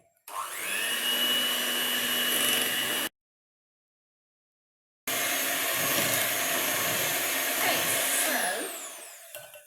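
An electric hand mixer whirs loudly through gluten-free brownie batter for a few seconds, cuts out briefly, then starts again and runs steadily before winding down.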